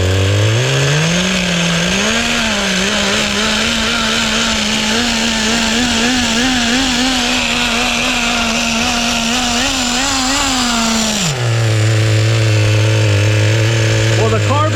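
An HPI Nitro Rush RC stadium truck with a restored 15 nitro engine runs close by, its high-pitched buzzing drone rising, holding steady, then dropping back to a lower idle, with brief talk underneath.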